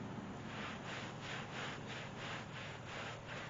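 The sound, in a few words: hard bristle broom scrubbing soapy area rug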